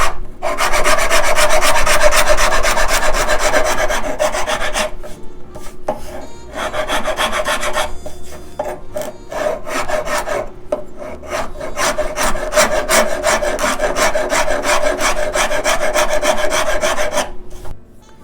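A rasp files a broken wooden guitar headstock during a repair, loud close scraping strokes in a steady back-and-forth rhythm with brief pauses, no voices.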